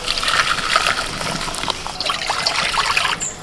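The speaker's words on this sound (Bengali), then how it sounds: "ঠান্ডা করার জন্য একটা বাটির মধ্যে ঢেলে নিচ্ছি" Dissolved candy syrup pours from a pan into a bowl, a soft continuous trickle and dribble of liquid, close and fairly quiet, with no voices.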